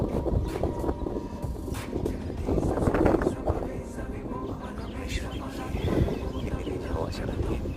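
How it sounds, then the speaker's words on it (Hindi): Strong wind on a summer morning outdoors buffets the microphone in a steady, rumbling roar that swells and eases throughout. "और हवा बहुत तेज है"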